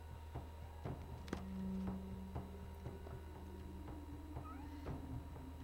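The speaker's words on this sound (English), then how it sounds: "That poor cat." Cat meows inside the PS2 video game Shadow of Destiny, a few short cries over a steady low game ambience and ticking, moderately close, with no talking.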